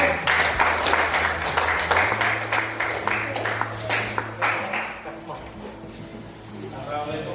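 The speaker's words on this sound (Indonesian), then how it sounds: "Kasih tepuk tangan untuk Aprian" A classroom group claps for a student presenter, a scattered patter of hands that is strongest at first and fades over several seconds, mixed with voices and a low steady hum.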